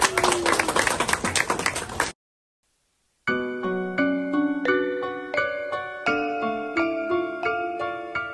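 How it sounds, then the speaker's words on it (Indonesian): A group claps together, loud and close, for about two seconds at an evening gathering in Bali. The clapping stops abruptly, then after a short silence a run of clear, ringing melodic notes begins. "Tepuk tangan untuk kita semua."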